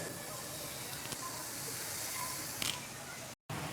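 Potato slices for crispy chips fry in hot oil with a steady, dense sizzle close by, flecked with faint crackles, before a brief cut to silence near the end.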